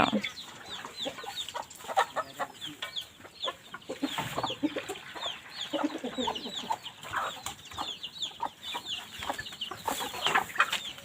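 Chickens clucking at a rural Thai farmstead, a busy run of short repeated clucks and calls from several birds, moderately close, with occasional faint voices in the background.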